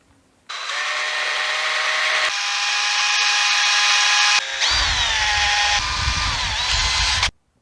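A power drill spins a sanding attachment against wood while a dinghy rudder and daggerboard are shaped: several whining bursts with shifting pitch, loud and close, ending abruptly.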